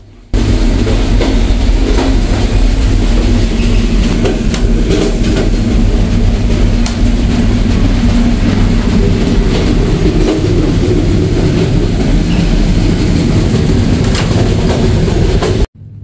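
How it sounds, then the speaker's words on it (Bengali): The Dhumketu Express from Rajshahi to Dhaka runs along the rails with a loud, continuous rumble and rhythmic clatter heard from inside the carriage for the whole stretch. "ট্রেন জার্নি করছি"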